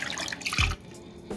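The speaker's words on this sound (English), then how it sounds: "We're gonna pour our teriyaki marinade over the top" Teriyaki marinade pours over chicken in a slow cooker, a brief close liquid splash and gurgle of about a quarter second, then a fainter drip shortly after.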